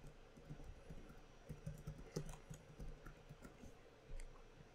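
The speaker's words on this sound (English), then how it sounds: "if I want to make changes directly on the screen, I can just double-click and type in the information." Quiet typing on a computer keyboard during an office software task, a scattered run of soft key clicks over a low background hum, faint and close with no talking.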